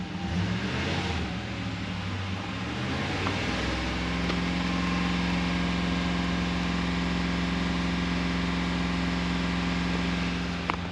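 A 2019 Ram 1500 with the 5.7 engine revs up from idle to a raised, steady drone with a low harmonic hum, close and sustained, with no talking.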